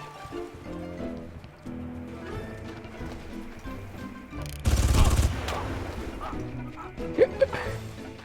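Gunfire bursts in the video game Far Cry, sniper and RPG fire arriving as a loud dense volley midway, with game sounds and mechanical clatter around it.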